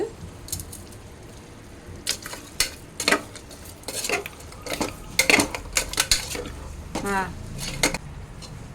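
A pan of rock salt being fried is stirred with a metal spoon, giving sharp clanks and scrapes against the pan over a faint low sizzle. A voice speaks intermittently.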